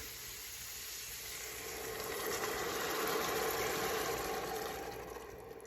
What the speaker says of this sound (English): I'm going to go ahead and add my mussel water